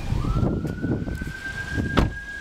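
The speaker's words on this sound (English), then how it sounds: "You can probably hear the sirens in the background" A single rising-then-steady siren wail runs through the background outside a parked car, fairly faint beneath a low rumble of traffic, with a brief sharp noise near the end.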